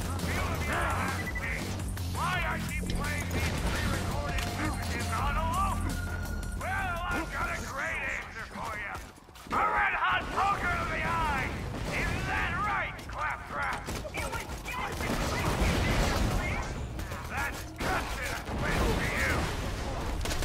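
Gunfire in the game Borderlands 2 during a four-player session, heard as rapid bursts and crashing impacts mixed with game effects. Several people talk and shout over the shooting throughout.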